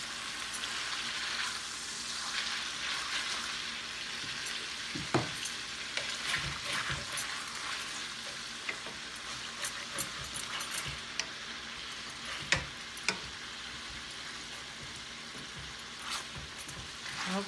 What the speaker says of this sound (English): I'm gonna move it around a little bit so it won't get stuck to this pan.